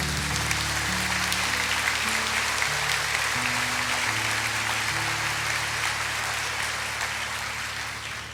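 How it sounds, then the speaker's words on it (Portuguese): A church congregation claps together during a service, a broad, even wash of many hands, moderately loud and sustained, over a low background of sustained musical tones, easing slightly at the close. "Vamos aplaudir ao Senhor nosso Deus."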